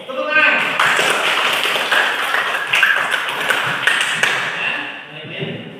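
Students in a classroom break into a burst of clapping, a dense patter of many hands that holds for several seconds before tapering off, with voices mixed in.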